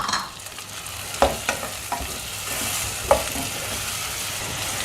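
Onions sauté in a pan for a vegetable fish curry. A steady moderate sizzle runs throughout, broken by several scraping stir strokes and clinks from a utensil against the pan.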